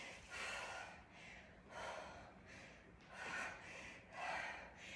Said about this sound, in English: I need to get my breath back.